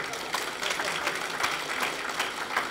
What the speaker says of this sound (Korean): 여러분 다 박수 치시는데